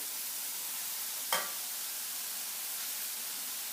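Rice sizzles steadily in sesame oil in a hot pan, a dense, even frying hiss with one brief clatter as it is stirred.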